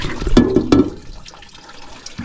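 Water runs from a kitchen tap at weak pressure, a splashing, gurgling stream that starts strong with a couple of sharp splashes and then thins to a softer, steady trickle.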